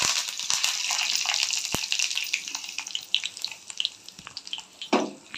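Ground tamarind chutney goes into a hot pan and sets off a dense, close sizzle that tapers into scattered sputters and pops, with a brief clatter midway and a final burst near the end. No voices are heard.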